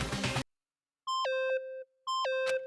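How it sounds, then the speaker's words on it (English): Electronic beeping from the Danganronpa video game: two distinct rising-then-falling chimed beep phrases, clean and loud, following a short burst of noise, with silence between them. "Stop that goddamn beeping and say something!"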